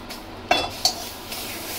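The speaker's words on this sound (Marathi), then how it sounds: "कढईमध्ये टाकूया आपण बटर।" Butter dropped into a hot kadhai while making butter paneer masala: two sharp clinks or taps, like a utensil against the pan, then faint sizzling and stirring. Quiet, with no voices.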